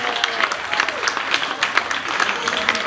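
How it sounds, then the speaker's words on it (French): Audience applause fills a conference hall after a speaker at a management innovation event asks for it, steady dense clapping from a crowd, moderately loud and continuous throughout. "je vous demande déjà de m'applaudir moi."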